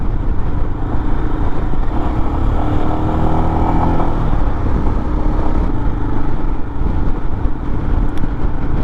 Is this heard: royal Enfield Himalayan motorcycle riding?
yes